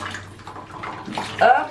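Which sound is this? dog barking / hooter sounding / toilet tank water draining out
toilet tank water draining out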